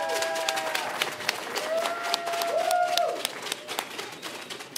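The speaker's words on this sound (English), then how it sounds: "Give me a huge round of applause, guys." A crowd applauds at a CS:GO esports event, a moderate wash of clapping that swells and holds steady for several seconds before easing off, with a faint voice and tones over it.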